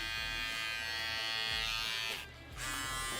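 A foil electric shaver works hair during a textured mid-fade fauxhawk haircut, giving a close, constant high-pitched buzz that cuts out briefly near the end before resuming.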